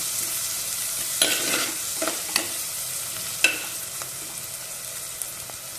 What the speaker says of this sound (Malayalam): ഇതാ പാവക്കൊക്കെ ഫ്രൈ ആയി വന്നിട്ടുണ്ട്